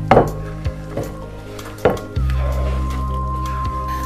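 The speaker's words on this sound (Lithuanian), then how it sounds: "Supjaustę agurką taip pat dedame į bendrą dubenį." Slices of cucumber dropped into a shared salad bowl, giving a few soft wet thuds and light clatters close by, over a steady low kitchen hum.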